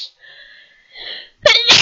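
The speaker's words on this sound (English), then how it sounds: "Sneezed a bit there." A person sneezes twice in quick succession, a faint breathy lead-in building to two loud, sharp bursts close to the microphone with no other sound.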